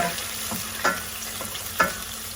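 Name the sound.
wine added to sizzling sauce pan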